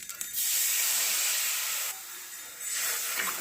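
Tamarind chutney bubbling in a pan gives off a steady, loud hiss of steam and simmering that dips briefly and then swells again, with no voices.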